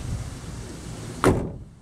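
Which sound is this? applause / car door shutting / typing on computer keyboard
car door shutting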